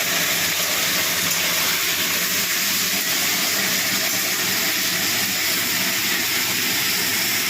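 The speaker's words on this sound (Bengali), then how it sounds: "কেটে রাখা টমেটোগুলো দিয়ে দিচ্ছি।" Chopped tomatoes hitting a hot pan for a quick pea dish, giving a steady, loud broadband sizzle and hiss that carries evenly throughout with no voices.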